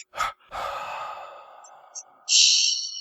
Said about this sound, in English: out of the mouth 3 times with an elongated exhale on the 3rd out breath